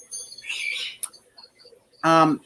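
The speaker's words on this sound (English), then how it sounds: "Or do you just hear the crickets?" Crickets chirp in a reptile room, high thin trilling bursts at moderate volume, followed by a louder, brief harmonic call near the end.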